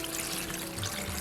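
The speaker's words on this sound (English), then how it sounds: "I'm gonna fill my pot all the way up" Water pours into a large cooking pot for a Jamaican sorrel drink made with ginger, a continuous close, bright splashing rush with no pauses.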